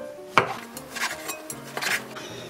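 Fresh shiitake mushrooms are cut with a knife on a board, giving a handful of soft, irregular chops and taps near the mic, with one sharper knock early on and no talk.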